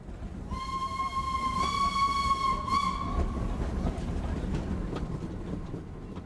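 A tourist train on the old Cavignac–Coutras line gives a clear, sustained steam-style whistle as it departs the station, two blasts over a low rumble and hiss of the train pulling away.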